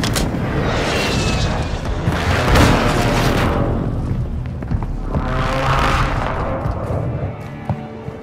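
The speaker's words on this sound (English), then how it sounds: "Hostile airstrike near your location." Heavy airstrike explosions in the video game Warzone 2 roll out as two long, loud booming blasts with rumbling debris tails, close and overwhelming, with no voices.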